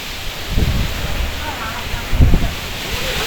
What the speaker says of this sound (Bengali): বাতাসে দাঁড়ানো যাচ্ছে না